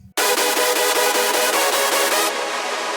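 A bright, loud hardstyle lead synth plays a build-up melody in quick, repeated chord stabs, dense and sustained, then its upper sheen drops away for the last half second.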